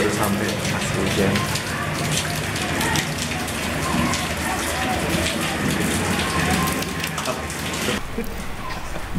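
Heavy rain pours at the Golden Mosque in Manila, a dense, constant hiss of drops striking surfaces close by, loud and unbroken throughout.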